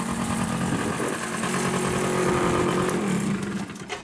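A 2004 Bombardier DS90 quad with a freshly rebuilt carburetor idles steadily close by, a smooth, even small-engine putter with no talk over it.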